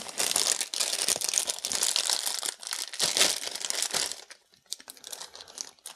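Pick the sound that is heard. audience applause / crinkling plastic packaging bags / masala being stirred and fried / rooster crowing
crinkling plastic packaging bags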